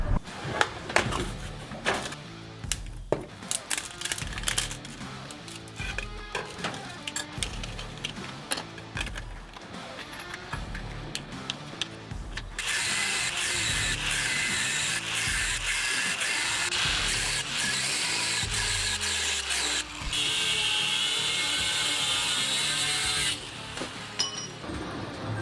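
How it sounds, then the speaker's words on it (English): Metal clunks and ratcheting clatter as a Lee Enfield rifle barrel is clamped into a homemade DIY barrel vise, irregular knocks giving way to a steady mechanical whir in the second half, close and fairly loud. "I'll clamp it in place now."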